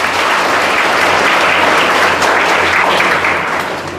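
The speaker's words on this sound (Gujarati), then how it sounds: "પહેલાં એમનું તાળીઓથી સ્વાગત કરી લઈએ" A family is welcomed at a birthday gathering held at an institution with loud, continuous applause from a crowd: thick, close clapping that holds steady and eases slightly at the end.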